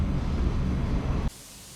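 A spray gun laying down a coat of candy paint gives a steady broadband hiss for just over a second, then the spray cuts off abruptly, leaving a softer background hiss.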